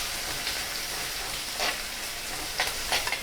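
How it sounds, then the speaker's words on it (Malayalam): Ginger, green chili and curry leaves frying in a pan for Kerala mackerel curry, a steady soft sizzle with a few brief scraping stirs, no talking. "എല്ലാം കൂടെ നമുക്കൊന്ന് ഇളക്കി കൊടുക്കാം"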